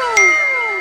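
A short bright ding of a phone message notification, a single clear chime with a ringing tail that fades slowly, loud and close, with no talk.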